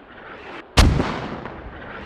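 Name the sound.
mortar fire in Squad video game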